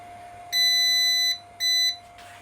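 An Elegoo Mars 3 Pro resin 3D printer beeps twice, a long electronic tone then a shorter one, clear and close over a faint steady hum.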